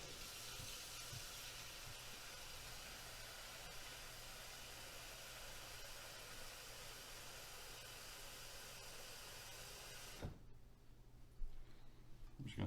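Hot water pours steadily into a pan holding a little Simple Green for soaking RC nitro engine parts, a broad rushing hiss that cuts off abruptly near the end, followed by a few soft clunks.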